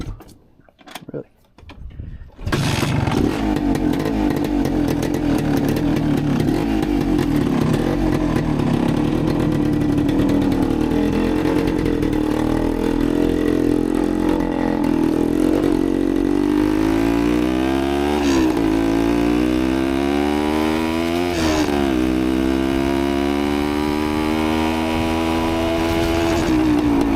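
A 1973 Suzuki TS250 barn-find motorcycle engine runs close by, revving up and settling back to idle with rising and falling pitch, loud and steady after a brief sputtering start.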